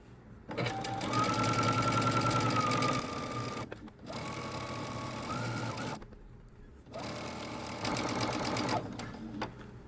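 A sewing machine stitches close to the fabric edge while a dress is being sewn, running in three steady bursts with short pauses between them.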